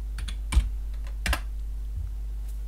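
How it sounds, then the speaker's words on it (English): Keys on a computer keyboard clatter as figures are typed into an Excel spreadsheet, a few close, distinct clicks in a short burst over a low steady hum. "Now every figure I type into here"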